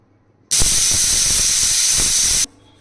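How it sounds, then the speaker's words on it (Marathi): A pressure cooker cooking fresh ghevda bean seeds releases one loud, steady whistle of hissing steam for about two seconds, then stops abruptly. "आता आपण कुकरला ह्याच्या तीन शिट्ट्या करून घेणार आहोत"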